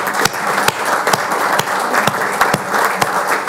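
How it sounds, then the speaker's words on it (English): Shareholders at an energy company's annual meeting break into applause, a close, steady patter of many clapping hands with a few sharper individual claps standing out. "So please join me in a round of applause for Steve."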